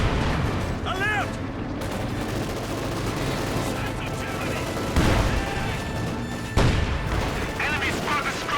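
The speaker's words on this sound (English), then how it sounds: "nasty hit there from the field gun, direct hit on poor Heinz." Booming field gun fire and explosions in a Company of Heroes 2 battle, with a sharp direct hit near five seconds and another blast near 6.6 seconds over a continuous din of gunfire and combat noise.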